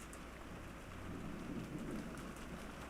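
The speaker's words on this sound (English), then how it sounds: "Outside, the rain was no longer falling weakly." Heavy rain pours steadily in a storm, a dense continuous hiss of drops with deep low rumbles swelling in the middle, steady and fairly loud with no voices.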